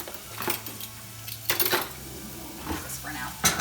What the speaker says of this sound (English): let me give this bacon a stir